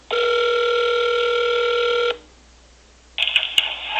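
A telephone ring tone sounds steadily for about two seconds during a call transfer, then after a short pause a second ringing burst begins, loud and close, with no talking.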